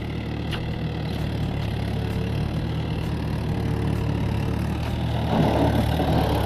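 A Mahindra 575 tractor idling in a farm field, a steady low engine rumble with a faint periodic knock that grows a little louder near the end.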